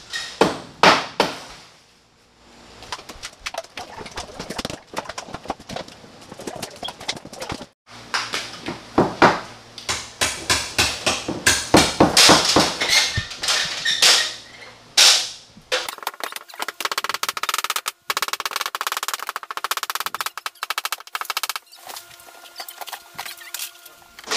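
Hammer blows and sharp cracks ring out while walls are torn down in a home renovation, a fast irregular series of close, loud impacts with scraping and debris rattling between them.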